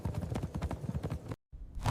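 Heavy cavalry hoofbeats of armored horses in a charge, a rapid rumbling clatter of many hooves that cuts off abruptly into brief silence before the rumble swells back in.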